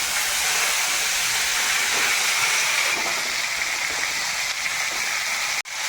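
Pumpkin stalks sizzling steadily in hot oil with five-spice, a continuous close hiss with no talk, ending in a brief dropout just before the end.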